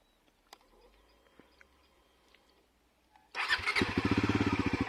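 A Bajaj Pulsar NS400z motorcycle engine starts after a few quiet clicks, catching abruptly and settling into a loud, close, rhythmic idle that pulses steadily.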